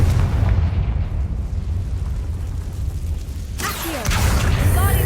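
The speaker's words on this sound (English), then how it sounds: "Confringo!" A Confringo fire spell from Hogwarts Legacy bursting with a deep rumbling explosion that rolls and fades, followed near the end by a sharp crackling, whooshing flare of flame.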